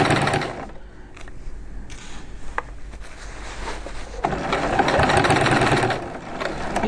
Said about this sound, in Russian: Я шью двумя оттенками ниток.